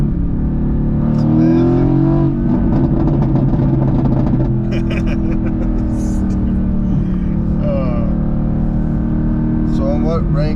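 A 2016 Mercedes-AMG GT S engine revs loudly in Race mode, a steady, strong drone with rising and falling pitch sweeps that carries through the whole stretch, while someone speaks briefly over it.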